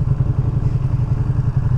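A 2023 Ducati Panigale V2 ridden around New York City, its engine giving a loud, steady, low rumbling throb mixed with wind roar, with no talking.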